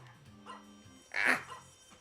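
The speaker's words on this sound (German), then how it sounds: "Hund." A dog gives a few short barks and a yelp, close and clear over faint background sounds.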